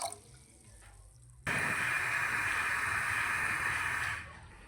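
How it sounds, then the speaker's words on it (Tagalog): Water pours steadily into a cooking pot for a few seconds, a loud continuous rushing splash that starts abruptly and tapers off, in a kitchen while preparing pechay Baguio. "maglalagay tayo ng tubig sa kaserola"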